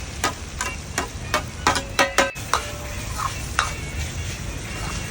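Chopped onions dropped into a pan with ginger and garlic for pepper chicken: a steady frying sizzle under a few sharp clicks and scrapes of a spoon stirring against the pan, close and moderate.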